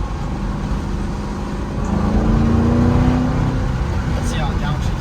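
A 2005-2009 Ford Mustang GT V8 with a Corsa Extreme black-tip axle-back exhaust, a deep engine drone that swells and rises in pitch as it revs while driving, with people talking over it.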